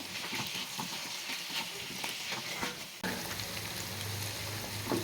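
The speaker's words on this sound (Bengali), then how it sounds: "আলুটা দিয়ে আরও কিছুক্ষণ এটাকে আমি ভেজে নিচ্ছি।" Potatoes frying in a pan with ginger and green chili, a steady close sizzle with scattered crackles and stirring scrapes, with a brief break partway through, for a crisp singara filling.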